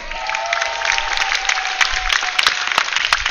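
Home crowd at a Swedish sporting championship cheering and applauding, a dense, loud wash of clapping with sharp individual claps standing out, steady throughout.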